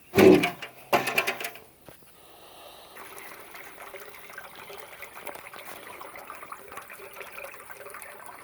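A couple of splashing bursts give way to a steady, gentle stream of fresh water trickling and pouring for goats for several seconds, close by.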